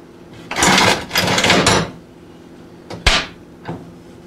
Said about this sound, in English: I'm going to talk about C clamps like this. And I have a whole bunch of them.